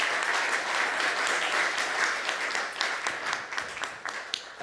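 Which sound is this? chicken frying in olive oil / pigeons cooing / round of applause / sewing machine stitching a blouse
round of applause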